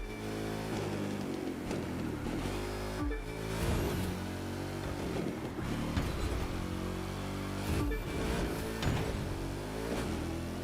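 A racing car engine in The Crew 2 roars continuously, revving up and down through gear shifts with a sustained whine, loud and up front with no talk.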